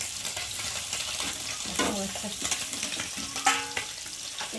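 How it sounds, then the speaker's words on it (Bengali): Steady crackling sizzle of bhola fish pieces frying in hot oil, with a few brief utensil clinks partway through. "একটা অল্প অল্প করে ভেজে নিই"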